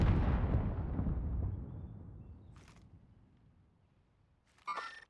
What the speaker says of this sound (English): We got a helper shooting rockets at him.